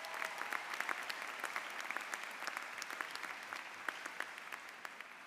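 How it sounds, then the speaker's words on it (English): Graduates at a law school commencement ceremony applaud themselves, a continuous, fairly soft and distant crowd clapping that holds an even level for about five seconds. "Please give yourselves a round of applause."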